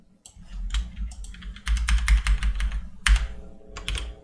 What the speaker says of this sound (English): When I hit the keys, letters end up on the screen.